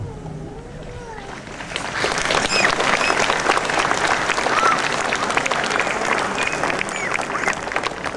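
A congregation at the Le Folgoët pardon applauds together, a broad sustained wash of clapping that swells after a softer start and holds steady, with a voice speaking over it.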